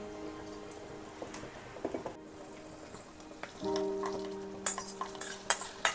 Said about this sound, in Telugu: ఈ పోపుని మనం చేసి పెట్టుకున్న పచ్చడిలో వేసేసుకుందాం.